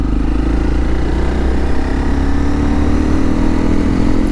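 Honda CRF300 Rally on its stock exhaust pulls hard under acceleration, a steady loud mid-pitched engine drone with a rising harmonic tone and constant wind rush, no pauses throughout.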